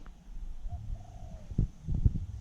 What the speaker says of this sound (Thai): ผมเปิดลำโพงให้นกปลาบินมาครับ นี่ครับคือเสียงนกปลา